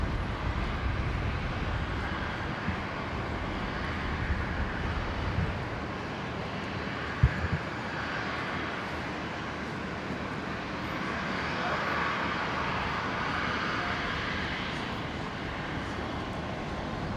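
A jet airliner rolls for takeoff on runway 19 right at Brisbane airport, a broad steady engine roar heard from a distance, with rumble in the low end, one short knock partway through, and no voices.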